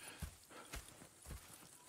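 Faint, quiet horse hoofbeats in the video game Red Dead Redemption clip-clop in an uneven rhythm, a few soft thuds spaced across a short stretch.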